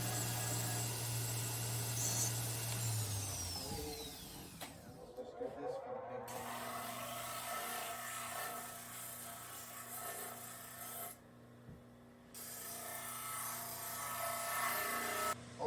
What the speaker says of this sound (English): We're going to go to the belt sander first.